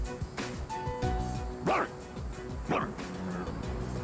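A stray dog in the video game Persona 3 Reload gives a few short yips and barks, two sharper ones standing out, over a quiet game background with faint voices.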